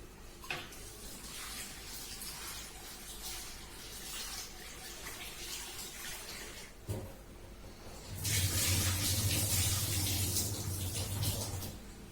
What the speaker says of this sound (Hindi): ये मैंने लिया है पोहा और मैं इसे पानी से धोने वाली हूँ।